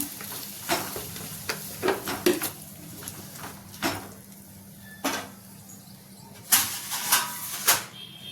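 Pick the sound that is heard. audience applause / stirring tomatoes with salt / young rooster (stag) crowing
stirring tomatoes with salt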